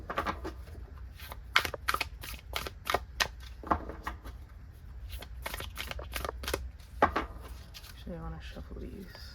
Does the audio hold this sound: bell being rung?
no